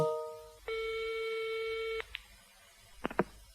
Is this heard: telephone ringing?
yes